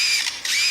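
Lyrebird mimicking a camera shutter, a short sharp mechanical whir-and-click burst with a brief break in the middle, close and clear.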